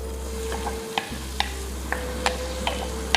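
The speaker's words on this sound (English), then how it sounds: "we start off with frying the onions in the oil" Onions fry in hot oil for an East African chicken in coconut curry, a steady sizzle with periodic sharp ticks from a stirring utensil against the pot, close and continuous with no speech.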